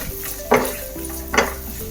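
A spoon scrapes through a pan twice over a low, continuous sizzle of coconut pieces frying in ghee.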